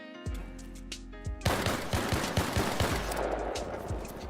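Rapid bursts of turret gunfire in a video game, a few sharp shots at first, then a dense sustained volley of repeated loud cracks over a music bed.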